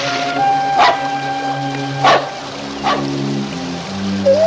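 A dog barks in four sharp, separate yips spaced a second or so apart, heard over steady background music.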